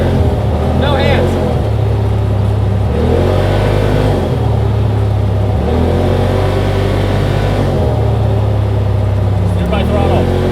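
Side-by-side UTV engine revving as it is steered by throttle, loud close motor rising and falling in repeated surges, with voices talking over it.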